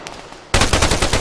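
Rapid automatic gunfire in Arma 3 bursts in loudly after a brief quiet moment, a dense rattling volley of close shots.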